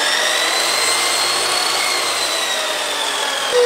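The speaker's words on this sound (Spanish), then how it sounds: "Un taladro para batir la masa." A power drill whirs steadily as it mixes dough in a home kitchen, giving a continuous, fairly loud motor drone with no talking.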